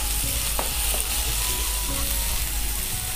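Capsicum frying in a pan for cabbage kofta curry, a steady close sizzle with occasional stirring scrapes and taps.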